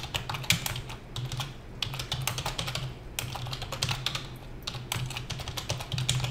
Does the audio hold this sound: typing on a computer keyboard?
yes